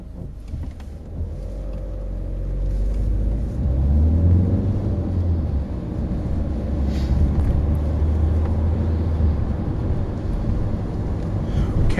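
A car pulls away on a road near the Farnborough driving test centre, engine rumble rising as it gathers speed, then a steady low drone of driving continues with little talk.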